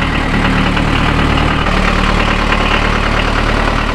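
Unimog 411 diesel engine idling steadily with a low, even knocking rumble, close and continuous throughout, no talking.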